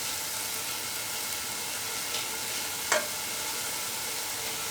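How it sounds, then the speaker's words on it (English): Rice drying in a pan over slightly below medium heat gives off a steady, soft sizzle of water cooking away, with a brief clink partway through. "You can hear the water sizzling out."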